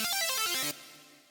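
A synth lead fill from the '2010 nostalgia' preset plays a quick stepping run of bright notes, clear and alone, then cuts off and leaves a short fading tail.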